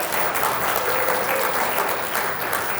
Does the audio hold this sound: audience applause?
yes